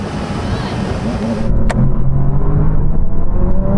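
A Bentley Speed 8 Le Mans race car and a Bentley Continental GT Speed accelerate side by side in a drag race from a rolling start, engines roaring loud and close in a dense, rising rumble.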